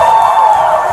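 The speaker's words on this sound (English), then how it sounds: "They're clapping for you, buddy." Crowd at a Pride rally cheering and clapping, a sustained dense roar of voices and applause held steadily and loud throughout the second.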